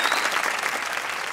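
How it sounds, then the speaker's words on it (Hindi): A studio audience at a Pakistani comedy talk show claps in sustained, dense applause, loud and even throughout the short stretch, with no one speaking. "अच्छा तीनों हजरात ताली होनी चाहिए रज़ाक भाई के लिए।"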